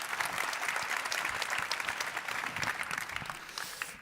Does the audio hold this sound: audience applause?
yes